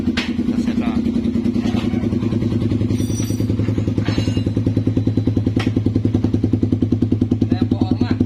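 A Raider 150 motorcycle fitted with an SC Project muffler exhaust idles and revs nearby with a loud, rapid, steady putter, punctuated by a few sharper blips of throttle.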